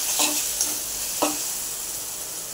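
Tomatoes sautéed in a pan for a spicy dried-shrimp chutney, a continuous bright sizzle with a few soft spatula scrapes and stirs, close and alone.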